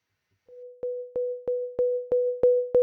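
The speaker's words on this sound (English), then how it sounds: "It sounds like a pure sine wave" A synthesizer oscillator plays a pure sine wave: a steady tone begins alone, then repeats as a series of eight evenly spaced notes, each with a soft click at its onset, in a clean, quiet setting.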